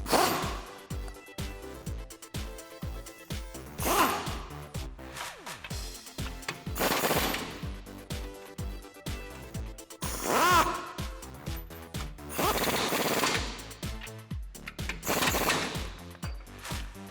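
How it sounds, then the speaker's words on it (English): A tool with a 22mm socket tightens rear leaf spring bolts on a 2005-2021 Toyota Tacoma, making repeated bursts of rattling clicks with short pauses between them, close and moderately loud. "with a 22mm socket is tighten these down"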